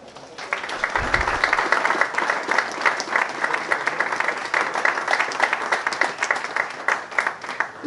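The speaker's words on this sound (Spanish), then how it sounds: "Les pido un fuerte aplauso para recibir" An audience at a sports program welcoming a local player with steady, sustained applause, many hands clapping at a moderate distance for several seconds.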